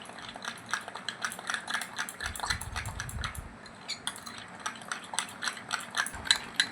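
Colgate toothpaste is stirred into a homemade face pack in a small bowl, giving close, rapid rhythmic clicks and scrapes of a spoon against the container with a brief duller thump in the middle.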